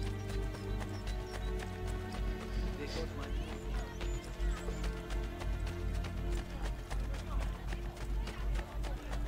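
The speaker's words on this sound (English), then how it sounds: "Yeah, the horse is right next to me." A horse's hooves clip-clop in a fast rhythmic run through the streets in Assassin's Creed Brotherhood, with crowd murmur around it and a player talking over the game sound.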